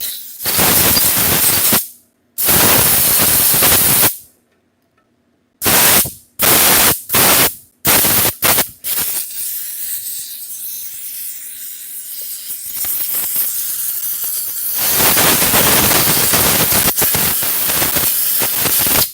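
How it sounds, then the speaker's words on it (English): Several loud bursts of hissing spray from a spray can onto a hot engine part during a cam gear replacement, short and choppy at first, then a longer steady hiss building toward the end, close by. "I'm just gonna just spray this thing down"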